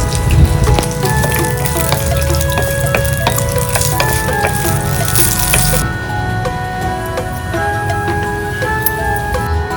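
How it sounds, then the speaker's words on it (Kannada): Dried red chillies, curry leaves and cashews sizzle in hot oil as a tempering for North Karnataka-style curd rice, giving a steady, dense crackle and hiss throughout with no voices. "ಕೆಂಪ್ ಮೆಣಸಿನ್ಕಾಯಿ, ಕರಿಬೇವ, ಮತ್ತೊಂದ್ ಸ್ವಲ್ಪ ಗೋಡಂಬಿ ಹಾಕಿ ಒಗ್ಗರಣೆ ಹಾಕಿ"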